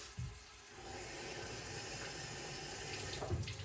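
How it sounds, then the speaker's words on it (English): Tap water runs steadily from a kitchen faucet over carrots being rinsed, a continuous close hiss and splash that holds at an even level throughout. "Just rinse these carrots."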